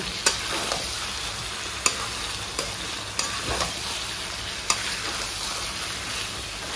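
Chicken frying in a pan gives a steady, close sizzle with a few sharp clicks and pops scattered through it, and no one speaks.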